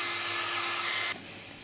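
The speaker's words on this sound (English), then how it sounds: "Having blasted it with a hairdryer, the wash is now bone dry" A hair dryer blasts a watercolour wash, a loud steady whirring whoosh close by that cuts off abruptly near the end, leaving a quiet room.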